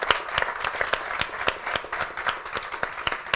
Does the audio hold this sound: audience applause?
yes